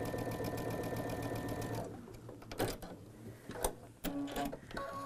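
A sewing machine stitches a quilt block for a four patch star quilt, running in a fast, rapid rhythm for a couple of seconds, then stopping, followed by softer handling clicks and fabric rustles.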